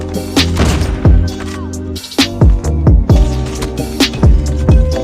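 Sniper rifle shots ring out in Call of Duty Mobile, several loud close booms with ringing tails scattered across a few seconds of dense, busy game sound.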